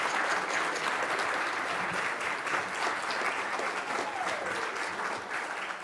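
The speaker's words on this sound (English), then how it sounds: "please raise your hand so we can give you a quick round of applause" A livestream audience gives a quick round of applause for first-time attendees, a steady, dense patter of many hands clapping evenly for several seconds, moderately distant, with faint murmuring underneath.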